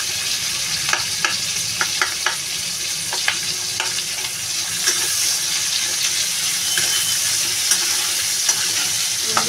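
Chopped onions frying in a pan with shrimp in a home kitchen, a continuous bright sizzle with occasional stirring clicks and scrapes, close and steady.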